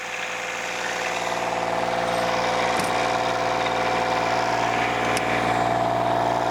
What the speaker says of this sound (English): you're going to push the green button and the engine's going to start